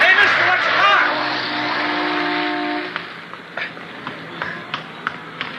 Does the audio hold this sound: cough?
no